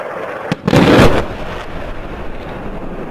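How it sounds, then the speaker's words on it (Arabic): A heavy explosion from Russian warplane bombardment of Al-Lataminah in northern Hama countryside, a loud booming blast followed by a rumbling, wind-buffeted roar that slowly settles; no voices. "قصف بالطيران الحرب الروسي على مدينة اللطامنة بريف حماة الشمالي"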